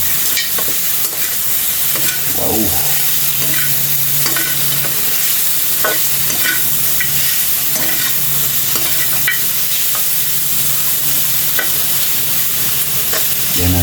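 Pork frying in its own rendered fat for adobong sitaw, a loud, close, continuous sizzle with intermittent stirring scrapes and clinks throughout.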